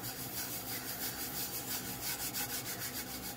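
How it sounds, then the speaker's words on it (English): Fingers buff a vinyl decal down onto a glitter and sunflower split cup, a soft, close rhythmic rubbing and squeaking that repeats in quick strokes, faint and alone. "now I am ready to burnish this down. Start with a couple fingers and just start buffing it down."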